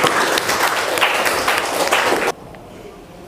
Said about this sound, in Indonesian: Ya, kasih tepuk tangan untuk